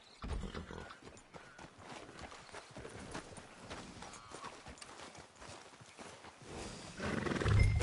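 A horse in the video game Red Dead Redemption 2 trots along with steady clip-clop hoofbeats, mixed with game ambience and a swelling rumble toward the end.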